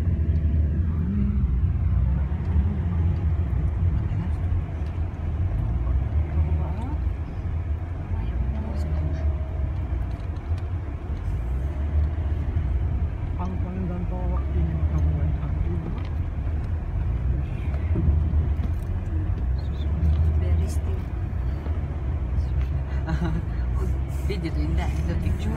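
Low, steady engine rumble from inside a bus on a foggy mountain road, droning continuously throughout with faint voices occasionally under it.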